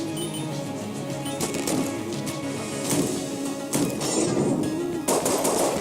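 Rapid bursts of gunfire in the video game Enter the Gungeon, with sharp repeated pistol shots and clattering impacts in quick clusters, loud and close, with no voices over them.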